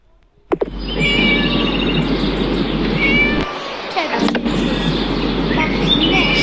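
Cartoonish cat meows and caterwauls in a video game, repeated mews and chirpy calls over a steady game soundtrack, with a sharp onset and a brief dip midway.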